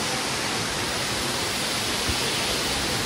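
Sitakund Waterfall in Simlipal National Park, Odisha, roars as a steady, dense rush of falling water, close and unbroken, with no voices.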